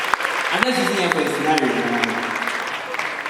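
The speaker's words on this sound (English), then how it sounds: "A round of applause for her as she comes." A comedy show crowd claps as a performer comes to the stage, even applause running throughout while someone talks over it.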